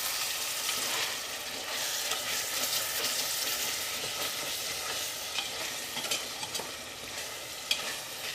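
Rice is stirred into half-cooked chicken in a pressure cooker for biryani. A spoon scrapes and turns the mix steadily over a soft, constant sizzle, with a few sharper clinks near the end.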